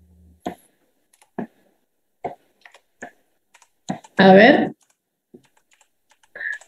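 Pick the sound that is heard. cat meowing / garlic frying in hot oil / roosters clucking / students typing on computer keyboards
students typing on computer keyboards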